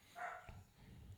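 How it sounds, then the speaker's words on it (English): A dog barks once or twice in the background, a short muffled bark heard faintly in a room. "Pardon the barking, everyone."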